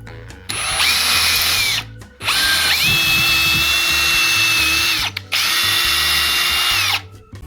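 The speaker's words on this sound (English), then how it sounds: "We're gonna drill right here where our stud is." A power drill whirs in three bursts with short pauses between, loud and close, its pitch dipping briefly as the bit bites into a wooden wall stud.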